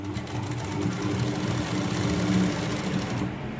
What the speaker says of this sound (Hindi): अब हम दूसरी तरफ की भी सिलाई लगा लेंगे